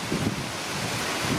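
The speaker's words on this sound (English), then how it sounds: "I'm just hiding out of the wind. It's really windy today." Steady roaring gusts of strong wind buffeting the microphone beside a canal at an agricultural farm in Ottawa, a dense low rumble with no voices.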